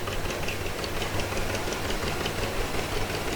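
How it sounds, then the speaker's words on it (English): A classic tractor engine runs in a Memorial Day parade, a steady chugging, knocking idle close by and fairly loud, with a continuous low rumble and no speech over it. "Another classic tractor."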